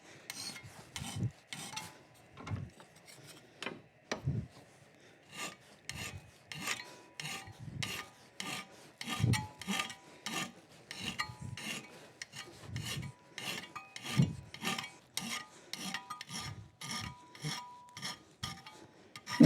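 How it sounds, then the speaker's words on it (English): A coarse file rasps across metal in steady, rhythmic push strokes, dozens of scraping passes, each a gritty burst with brief pauses between, loud and close in a quiet shop. "I got a coarse file."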